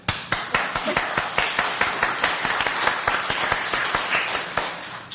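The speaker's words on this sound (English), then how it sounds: "Want a hand clap?" Applause at a city commission meeting in Boynton Beach, with sharp, fairly regular hand claps standing out over a steady wash of clapping that holds at an even, moderate level throughout.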